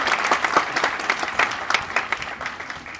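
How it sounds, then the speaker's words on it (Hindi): An audience at an awards ceremony breaks into loud applause, with distinct, lively claps packed into a brief three-second burst. "जोरदार तालियां।"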